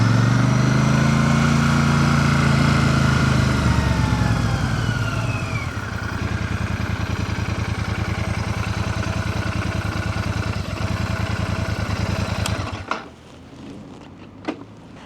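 A Royal Enfield Shotgun 650 motorcycle rides along with a steady, loud engine drone and road rumble that shifts pitch as it changes speed, then cuts abruptly to quiet near the end with a couple of faint knocks.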